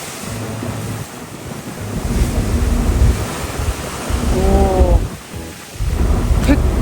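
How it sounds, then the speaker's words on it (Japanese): Ocean waves slap and surge against a small boat passing islands off Iki Island, Japan, a steady loud wash with wind buffeting the microphone and brief tonal bursts riding over the churn. "波が立ってます。"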